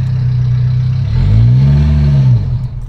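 A Ferrari's engine revs up close in a driveway, a deep, truck-like rumble that swells and climbs in pitch mid-clip before easing back toward idle, with no talk.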